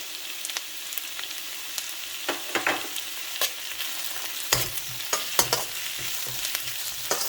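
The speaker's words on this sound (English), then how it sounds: "And give it a stir." Chopped ginger and garlic frying in a pan alongside translucent onion, a steady sizzle broken by scraping clinks as it is stirred, close and alone without talk.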